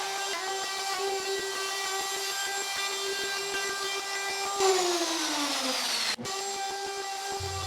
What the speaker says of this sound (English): I'm going to use a router to kind of eat out a majority of the material